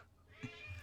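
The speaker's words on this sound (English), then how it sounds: "And there's a cat behind it." A cat in the Vampire the Masquerade video game gives a single short meow, close and fairly quiet over a low background hum.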